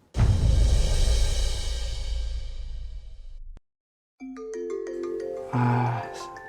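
After a loud, fading crash and a brief silence, a phone rings with a series of short electronic tones, repeating in a clear melodic pattern.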